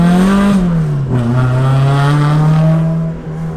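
A Toyota AE86 engine drones loudly and close at steady revs, dipping slightly in pitch before settling back into a sustained buzzing tone, with no talk over it.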